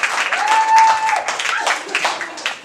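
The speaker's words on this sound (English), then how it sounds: "Give him a round of applause." An audience at a metal band's DVD screening premiere breaks into loud, dense applause mixed with whoops and a sharp whistle, fairly close and sustained for a couple of seconds before tapering.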